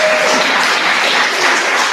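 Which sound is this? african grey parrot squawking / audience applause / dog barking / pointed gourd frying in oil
audience applause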